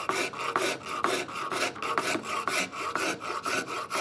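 A wood rasp shapes a wooden saw handle on a workbench, making a close, rhythmic rasping with about seven even strokes back and forth, coarse and steady with no talk.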